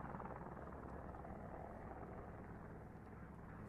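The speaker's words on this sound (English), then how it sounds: "The noise you can hear right there probably is a U.S. Customs Border Patrol helicopter sweeping down" A U.S. Customs and Border Patrol helicopter sweeps low over an open protest camp, its steady rotor and engine roar droning continuously, loud and unbroken.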